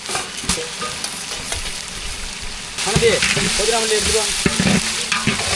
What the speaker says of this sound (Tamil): இஞ்சி பூண்டு பேஸ்ட்டு நல்லா வதக்கி விட்டுக்கலாம்